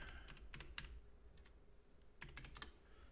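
Keys on a computer keyboard are tapped quietly while typing into a game's chat, in short irregular bursts of clicks separated by brief pauses.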